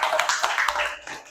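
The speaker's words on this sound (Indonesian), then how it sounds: "tepuk tangan untuk kita semua." Brief burst of classroom clapping during a geometry lesson, a short cluster of close claps that fades within about a second.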